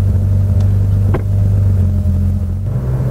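A Porsche 911 cruising in fifth gear on a road test after transmission repair, a steady, loud low engine drone from inside the car with a slight shift in pitch near the end.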